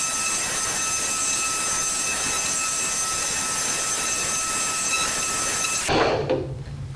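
A polishing machine runs flat against a car panel with Koch Chemie polish, a loud steady whirring drone with a high tonal whine that cuts off abruptly near the end.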